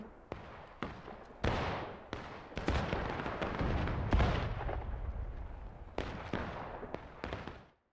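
Cannon blasts from Civil War artillery in War of Rights, a series of heavy booming impacts landing at irregular intervals with rumbling decay, some loud and close, others sharp and distinct, over a continuous background of battle noise.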